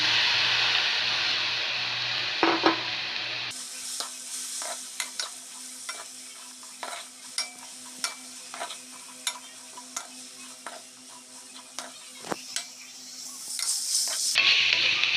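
Cabbage stir-fried in a hot pan for Japanese-style udon noodles, a steady sizzle broken by regular scraping stirs, loud and close, with a brief quieter pause before the tossing begins and no talking.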